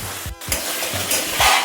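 Spices, salt and turmeric frying in hot oil for chicken biryani, producing a loud, continuous close-up hiss and sizzle broken by a few soft knocks of a stirring utensil.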